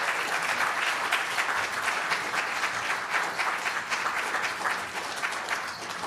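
An audience at a 40th anniversary story slam claps steadily for six seconds, a dense, even wash of applause from a room full of people with no voices rising above it.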